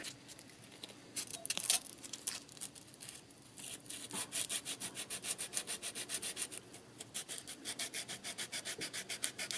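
A drill spins 220-grit sandpaper wrapped on its bit against the channel of a micro carving chisel, giving a continuous close rubbing hiss that settles into a fast, even pulsing rhythm toward the end.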